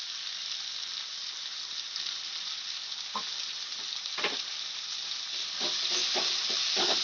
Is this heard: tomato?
yes